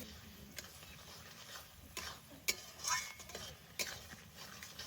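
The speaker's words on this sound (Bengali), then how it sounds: "এবার ভালো করে মশলা আবার কষিয়ে নেব" Spice masala being stirred and fried in a pan of oil with turmeric and salt, giving soft scraping strokes and sharp spoon knocks against the pan over a faint sizzle, fairly quiet and close.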